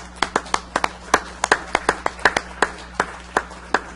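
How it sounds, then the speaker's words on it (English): Sparse clapping for city employees at a council meeting, a handful of distinct claps in an uneven rhythm over about four seconds in a quiet room. "They deserve our round of applause"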